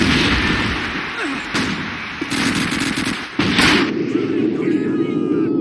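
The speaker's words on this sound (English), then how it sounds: "Here's a grenade for you, Jerry!" Call of Duty 2 multiplayer on PC, North Africa outpost map: dense gunfire and booming blasts, including a grenade explosion, crack and rumble amid continuous battle noise while a player talks over it.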